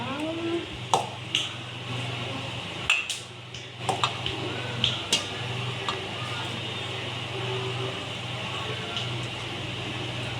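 Hands mixing puffed rice borugulu mixture with salt and spices, giving soft rustling and scattered crisp clicks against a bowl over a steady background hum.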